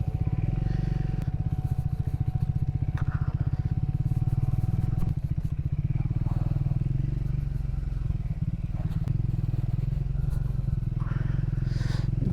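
A Triumph Scrambler motorcycle rides an off-road trail near a hilltop temple, its engine droning steadily and close the whole time, with rattles and clatter from the rough ground.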